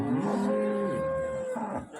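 A cow lets out one long, loud moo close by, drawn out and then trailing off.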